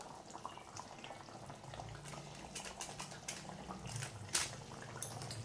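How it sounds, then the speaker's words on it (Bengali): Green banana kofta curry gravy simmers in a pot with fried koftas and garam masala added, giving a faint, steady bubbling and soft popping with no voices. "দিয়ে একটু ফুটে যাক"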